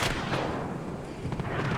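Tank cannon fire, including from T-72 tanks, booms in the Armored Brigade II video game as several heavy shots land at uneven intervals, each a sharp blast trailing into a low rumble.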